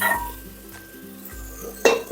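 Potatoes, tomatoes and peas sizzle in a pan with turmeric for veg biryani, steady frying hiss with metal utensil scrapes and clinks as the mix is stirred close up.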